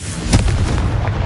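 Confringo spell blast in the video game Hogwarts Legacy: a single loud, booming burst with a sharp onset and a rumbling low tail, alone without talk.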